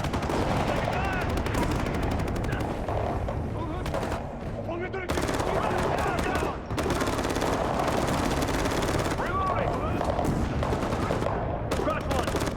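Heavy gunfire in a Ghost Recon video game trailer, dense bursts of automatic fire and single shots crackling over a battle din, with brief lulls and soldiers shouting between volleys.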